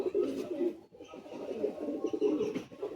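Pigeons in a loft coo in low, throaty, continuous rolls up close, with some chatter and background movement mixed in.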